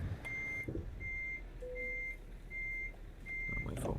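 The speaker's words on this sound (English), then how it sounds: "this beeping sound, you know, it's not in most of the tracks" A truck's reversing alarm in Euro Truck Simulator 2 beeps in a steady, evenly spaced series of five high tones over low engine rumble, with a single lower tone between them.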